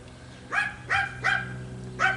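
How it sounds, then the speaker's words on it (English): A dog barks four times at a steady pace, sharp, clear, mid-distance yelps standing out over a low background hum. "Dog's barking."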